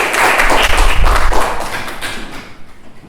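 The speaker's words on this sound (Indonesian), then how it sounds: "Tepuk tangan untuk Rama." A classroom group clapping for a pupil named Rama, a short burst of close, uneven hand claps with some thumps that fades out after a few seconds.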